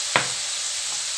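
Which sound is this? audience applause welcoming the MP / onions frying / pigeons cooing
onions frying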